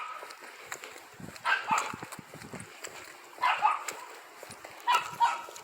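A dog on a walking path gives several short bursts of barking and yipping, spread out with gaps between them. The barks are moderately close and sound over faint outdoor background noise.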